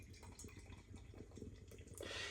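New England IPA beer pouring into a glass, a soft, close liquid trickle and glug that builds into a louder fizzing rush toward the end.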